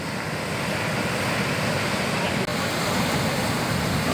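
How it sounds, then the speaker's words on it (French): Ocean waves on the coast at Bermeo in the Spanish Basque Country make a continuous loud roaring surf with wind rushing across the microphone. The roar holds steady throughout, with only a brief dip midway. "Les vagues"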